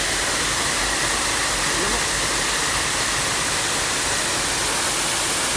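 Waterfall at Tarimes Falls in Rodriguez, Rizal, a steady, loud, full rush of falling water that fills the whole scene without a break.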